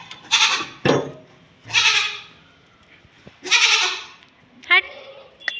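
A goat bleating repeatedly at close range, four or five loud, drawn-out cries separated by short pauses, with a few knocks and clatters between them.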